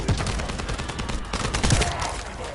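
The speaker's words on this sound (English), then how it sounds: "That stopped the gunfire." Gunfire in the shooter game The First Descendant, bursts of rapid shots and scattered reports crackling continuously over a noisy battle backdrop.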